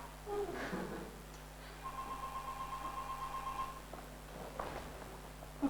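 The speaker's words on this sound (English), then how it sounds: "It's my phone. It's a mobile." A mobile phone ringing indoors, a repeating electronic ring tone lasting about two seconds at moderate volume, with faint shuffling around it and no talk.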